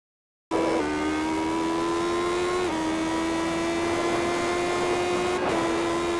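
A race car in a racing video game holds a high, steady engine whine on a lap, pitch stepping up briefly with each gear change, loud and close with no talk.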